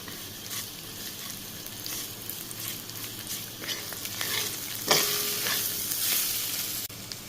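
Mashed raw green banana peel mixture sizzles steadily in a hot pan, with scraping stirs and occasional louder crackles partway through, close and continuous with no talking.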